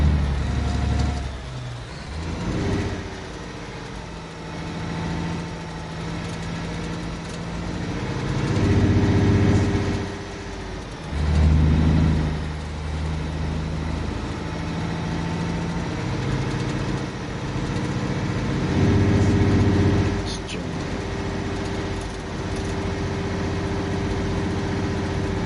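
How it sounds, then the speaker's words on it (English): A truck engine drones in the video game Alaskan Road Truckers, a steady mid-pitched rumble that swells and eases in waves as the revs change, continuous and without talk. "What worries me at the moment is the engine background tune."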